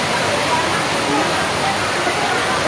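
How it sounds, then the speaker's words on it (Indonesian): Heavy rain pours steadily at Ragunan zoo, a dense, loud, continuous wash of broadband hiss with no breaks. "ini kebetulan lagi deras banget hujannya"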